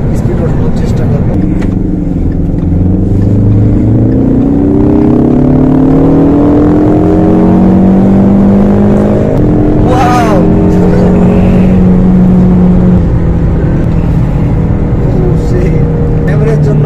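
Ford Mustang sports car accelerating on a road, its engine note climbing through rising revs with gear changes, loud and close from inside the car, with a brief burst of wind or voice partway through.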